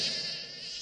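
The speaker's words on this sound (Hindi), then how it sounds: "एक मक्खी है।" A fly buzzing in a Shinchan cartoon, a steady, close, high-pitched drone that holds evenly for under a second with no talking.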